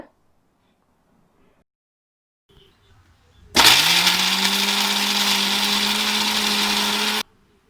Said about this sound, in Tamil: நம்மளுடைய மிக்ஸி ஜாரில் ட்ரான்ஸ்ஃபர் பண்ணிவிட்டு இந்த மாதிரி மைய அரைச்சி எடுத்துக்கோங்க